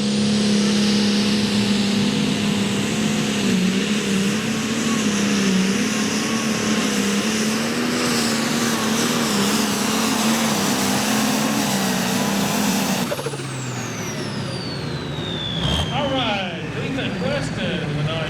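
A diesel tractor called the Little Reaper, said to date from 1911, roars under heavy load through a pulling run at an evening truck and tractor pull in Ardmore, Tennessee. The engine drones steadily, then drops off abruptly as the run ends, with a voice over the noise.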